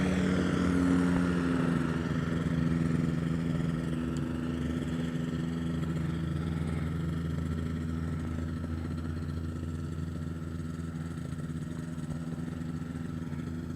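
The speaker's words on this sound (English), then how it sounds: "we're back here at Cranland Airport watching Peter get ready to take off" Small propeller aircraft engine droning steadily at Cranland Airport, loud and close throughout without talk, its tone holding level as the plane prepares to take off.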